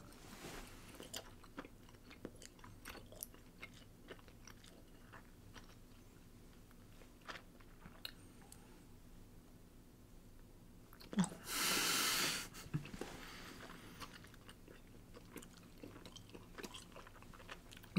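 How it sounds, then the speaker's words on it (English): Gum chewed in the mouth while a bubble is attempted: soft, quiet wet smacks and breathing throughout, with one brief loud burst of hissing air near the end as the blow is tried. "I'm going to take a pause to try to blow a bubble."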